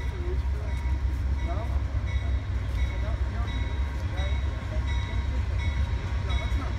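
A commuter train pulls into Fullerton station during Friday night rush hour: a steady, close rail rumble with faint metallic squeals and clatter throughout.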